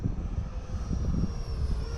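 An E-Flite Viper 90mm RC jet in flight gives a steady, fairly loud whooshing roar with a thin high whine that holds throughout, with no talking.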